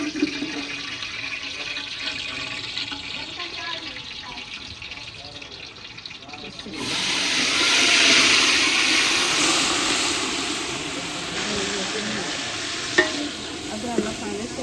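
Onions browning in a pan at a village kitchen, frying with a steady sizzle and scraping stirs; the sizzle swells louder partway through, with faint voices and background noise behind it.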